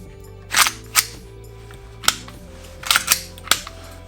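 Hop-up adjustment on an Umarex Elite Force Glock 19X airsoft pistol, a handful of sharp, crisp clicks spaced irregularly over a few seconds, close up with no talking.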